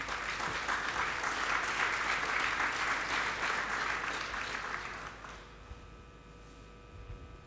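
A church congregation claps in a steady, loud wash of applause for about five seconds, then it fades out to a quiet room with faint scattered noises.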